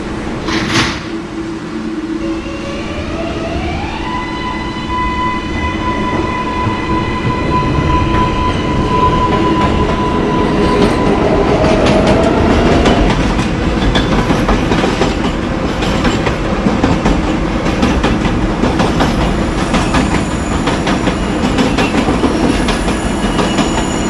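A New York City 2 train rumbles along loudly near Nevins Street, with steady clattering wheels, rising tones as it accelerates, and squealing metal throughout.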